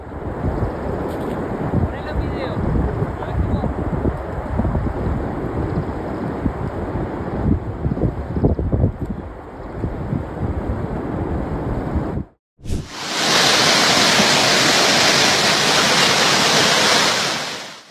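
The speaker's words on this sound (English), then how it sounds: "It looked like a waterfall, but it was actually a snow avalanche." A snow avalanche roars down a mountainside in a continuous, heavy rushing wash that holds loud throughout, then cuts abruptly to a brighter, hissing rush.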